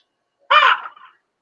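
A single gull call rings out, loud and close, a short harsh cry lasting under a second against an otherwise silent background.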